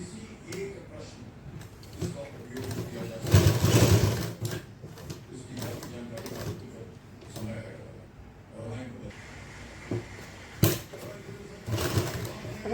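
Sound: sewing machine stitching seam along elastic of trousers

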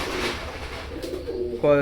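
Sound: pure Chuha pigeons cooing

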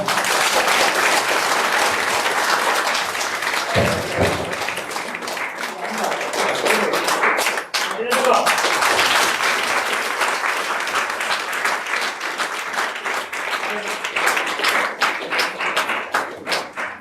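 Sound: audience applause

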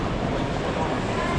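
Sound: train

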